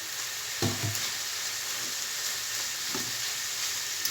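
Chopped onions frying in a pan for lasagna: a steady, hissing sizzle throughout, with a couple of brief clanks of a utensil against the pan, close and continuous.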